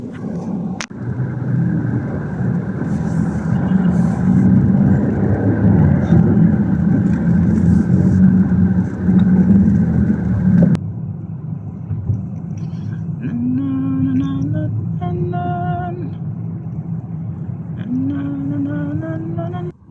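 A bus rumbling in slow, heavy traffic near the Bicutan exit in Taguig, a loud steady engine drone that cuts off partway, followed by quieter idling and a few horn-like tones.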